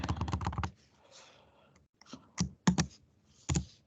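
Keystrokes on a computer keyboard during an admin login attempt, heard as a quick burst of clicks, a pause, then a few separate loud taps close by, with no talk.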